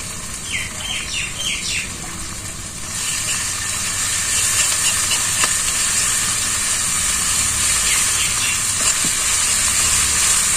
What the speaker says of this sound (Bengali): দিয়ে দিই মশলাটা কষিয়ে নিই